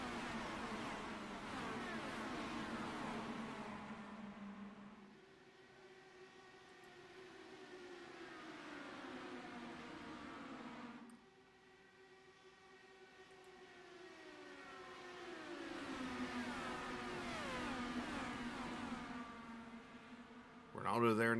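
Race cars in the iRacing sim at Pocono scream past at over 200 mph, with rising and falling engine whines that sweep in waves as they pass, loud and continuous.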